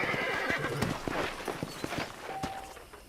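A horse in the video game Red Dead Redemption whinnies and its hooves clop at a walking pace, fairly close, with ambient background and no speech.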